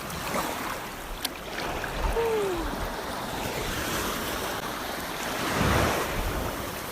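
Surf rolls onto a rocky black sand beach at Virgin Beach in East Bali, a continuous wash of breaking waves mixed with wind buffeting the microphone and a swell building near the end, with no talking.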